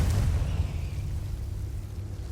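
Confringo blasting spell explosion in Hogwarts Legacy, a single burst at the start that decays into a low rumbling tail, moderately loud with no voices.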